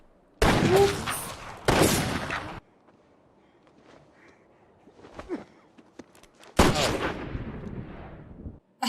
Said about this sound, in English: shooting cornbread out here on the prairie is getting us no closer to the Ned Pepper gang